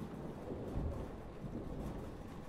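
A thunderstorm in the video game Life Is Strange, with steady rain hiss and low rolling thunder rumbling throughout, swelling briefly near the start, with no voices.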